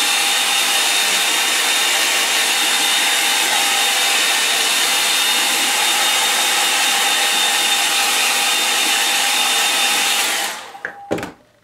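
A hair dryer blows steadily and loudly over a wet riverside painting, a constant close whoosh with a faint whine that runs for about ten seconds before it switches off.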